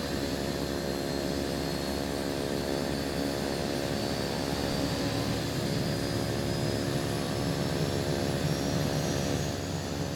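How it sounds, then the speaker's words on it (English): A small general aviation propeller airplane's engine running nearby on the ground, a steady, loud droning hum with buzzy harmonics that holds unchanged throughout, with no voices over it. "Yeah, it's probably hard to hear me over the plane."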